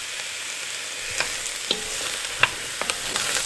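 Onions and mushrooms fry in a pot with a steady low sizzle, broken by a few soft clicks and taps of stirring; no one talks.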